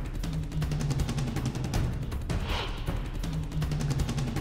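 Gunfire rings out at a crowd gathered outside Kabul airport: rapid bursts of cracking shots repeat over a low steady hum, captured somewhat distant in news footage.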